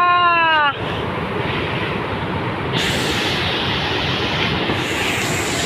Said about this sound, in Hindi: इस कितना खतरनाक वाटरफॉल है रे बाबा